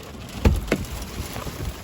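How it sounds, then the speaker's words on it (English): Small hail and rain fall in the Colorado mountains near Grand Lake, a soft steady patter broken by a couple of sharper nearby hits. "all of a sudden I've started getting nailed with little pieces of hail"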